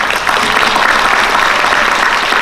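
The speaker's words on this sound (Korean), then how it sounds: "스스로를 위해서 박수를 한번 치고 진행하겠습니다" Roughly 130 attendees clap at a public forum on bus problems in Suwon, a loud, dense, even burst of applause filling the whole moment.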